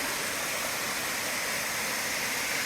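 Mountain cascades on Mt Nancy rush in a constant, dense roar of falling water, close and steady with no voices.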